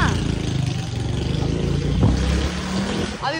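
A motorbike engine turning over and running with a rough, throbbing idle that swells briefly midway, accompanied by background chatter.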